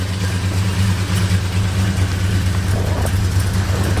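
A 1970 Plymouth Road Runner Superbird idles with a deep, steady, rumbling exhaust burble close by, its low throb even and uninterrupted.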